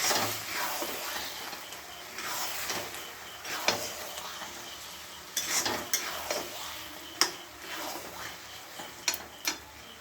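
Curry leaves and spices tempering in hot oil for a curry, a soft continuous sizzle and crackle broken by sharp stirring clicks and spoon taps against the pan, close by, with no talking.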